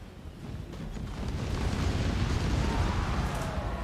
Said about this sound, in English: Those explosions don't do much, do they?